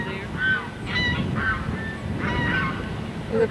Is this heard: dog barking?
no